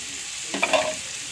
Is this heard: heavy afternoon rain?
no